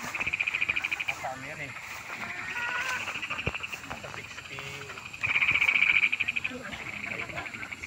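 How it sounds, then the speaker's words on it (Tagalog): Frogs croak in a steady rapid chorus with insect-like trilling on a chicken farm, rising in bursts, with soft distant voices now and then in the background. "Napakasarap pakinggan ang huni ng mga palaka."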